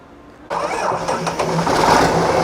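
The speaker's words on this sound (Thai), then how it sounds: "เดี๋ยวเดี๋ยวมาสตาร์ทให้ชมกันครับ" A Hino P11C 320 hp diesel engine cranks briefly and catches, then settles into a loud, steady rumbling idle, close by with no voices.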